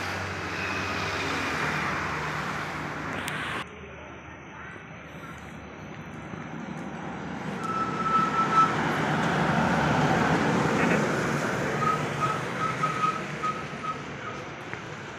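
Vehicles queue in a slow traffic jam on a Lebaran homecoming trip from Bali to Banyuwangi. Steady road rumble and idling engines carry on under talk, with brief whistle-like beeps and a few passing tones.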